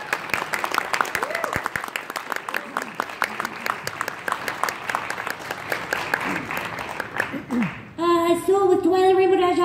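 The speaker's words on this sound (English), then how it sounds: "Applause." Audience applause at a live My Little Pony stage show at a fan convention, steady clapping under talk for most of the stretch, then giving way to louder music-like tones near the end.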